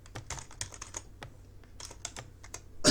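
A computer keyboard typing quickly at close range, a run of quiet irregular key clicks with short pauses, no voices.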